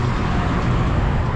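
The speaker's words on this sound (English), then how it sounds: "There's a little bit of traffic, guys." Sunday afternoon city traffic in Guatemala City, a dense steady roar of cars and buses with no distinct passes, continuous and fairly close.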